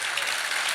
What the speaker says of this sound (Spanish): Aplauda con gozo.